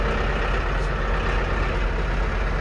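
Tractor loader engine running steadily at idle, a loud, continuous low diesel rumble close by with no break, heard alone without any talking.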